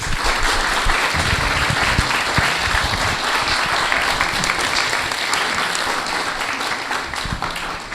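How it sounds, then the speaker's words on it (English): A crowd claps continuously after a panel discussion at Birmingham Museum and Art Gallery, dense and loud throughout, sustained applause without a break. "Can we give them a round of applause?"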